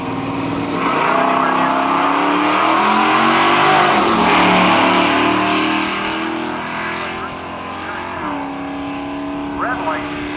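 A 1966 Ford Fairlane and a 1970 Mach 1 drag racing at Cayuga, Ontario, their engines roaring loud and sustained as they accelerate down the strip, pitch climbing and shifting, with an announcer talking over the noise.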